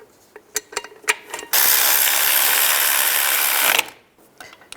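A ratchet tightening the caliper bracket bolts on a 2001–2008 Chevy Trailblazer's rear brakes, a few loud close clicks, then about two seconds of steady rapid ratcheting, then quiet.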